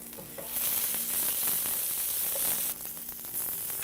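Courgettes hitting a hot frying pan with oil, a bright, close sizzle that holds steady for a few seconds, briefly dips, then resumes.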